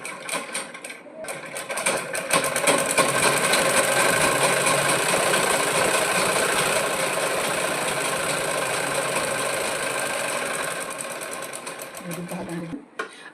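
A sewing machine stitches a placket strip onto a blouse, running close and loud in a fast, continuous mechanical whir for about ten seconds before slowing to a stop.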